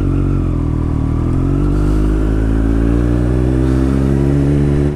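Triumph Street Triple motorcycle engine on a Sunday morning ride: a loud, steady, close drone that rises slightly in pitch, with no talking.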